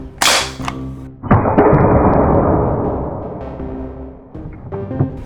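An 8-foot-long homemade Nerf gun fires a 20mm steel-tipped TPU penetrator dart: a sharp crack, then a loud booming blast that rumbles and fades over a few seconds, with a thump near the end.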